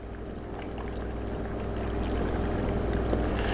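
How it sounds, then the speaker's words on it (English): Chicken stock being slowly poured into a pressure cooker for butternut squash soup, a continuous low liquid gurgle and splash that grows slightly louder, recorded close. "we got 5 cups of chicken stock, okay? So we're gonna slowly pour that in here."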